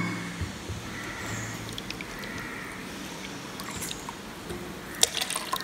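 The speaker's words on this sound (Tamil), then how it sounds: "மிச்சம் இருக்கக்கூடிய தண்ணி அவ்வளோ இதில் விட்டு" Leftover amla juice water being poured into a container, a steady trickling, splashing stream close to the microphone, running continuously with a brief clink near the end.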